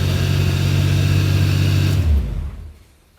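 A V12 twin-turbo engine in a BJ40 LandCruiser revs loudly and close up, holding a deep, rich drone for about two seconds before the revs drop and the sound fades away.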